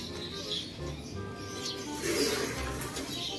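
Racing pigeons coo softly in a loft before being basketed for a race, low murmuring calls repeating under faint background bird chirps, with no talk.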